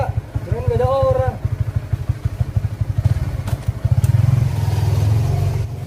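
A motorcycle engine revs up close, its low rumble rising and falling through the clip, with a voice talking over it early on.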